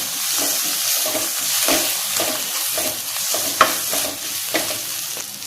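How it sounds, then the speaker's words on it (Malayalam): Chopped tomato is stirred into soya chunks frying in a pan, with a steady sizzle under repeated scraping strokes of a spoon, close and fairly loud throughout. "ഇനി നന്നായിട്ടൊന്ന് മിക്സ് ചെയ്യാം."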